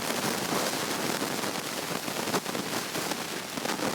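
Potato chops made with flour and mashed potato sizzle in hot oil over a medium flame, a dense, even crackling hiss that stays steady throughout with no voices.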